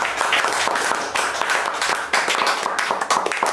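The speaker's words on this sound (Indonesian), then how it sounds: "boleh minta tepuk tangannya" Audience applause for a guest at the close of a talk show conversation, a dense, steady wash of clapping that runs continuously and fairly loud with no voices over it.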